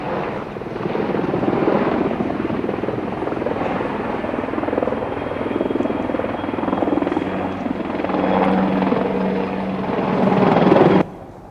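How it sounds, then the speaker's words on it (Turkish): A helicopter flies overhead during a search-and-sweep operation, its rotor and engine roar loud and steady for about eleven seconds before cutting off abruptly. "az önce helikopterlerden biri de ekranlarınıza yansımış oldu"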